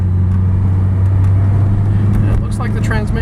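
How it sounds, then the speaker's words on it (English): Four-cylinder engine of a heavy 1986 Volvo 240 (244DL) sedan pulling steadily under acceleration on a road test drive, a loud low drone near and continuous, rising slightly toward the end as someone talks over it. "This 4-cylinder engine is not the most powerful engine out there, and the vehicle is a heavy vehicle"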